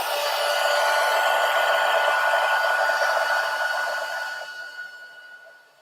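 A heat embossing tool blows hot air in a steady, loud, close whoosh with a bright whine, holding evenly for several seconds and then fading off toward the end, with no talk.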